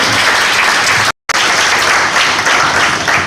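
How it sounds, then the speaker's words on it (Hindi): Loud, dense audience applause at a G.K. competition prize distribution in Orai, a sustained wash of many hands clapping close up, broken by a brief dropout of silence. "एक बार जोरदार तालियां अनामिका दीदी के लिए"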